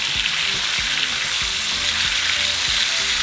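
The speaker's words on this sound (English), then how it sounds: "make sure that you cook your meat for 1 minute each side, all around the meat" Beef chunks for birria sear in a hot pan with a loud, steady sizzle and bursts of crackle, close and continuous, with occasional spatters and no voices.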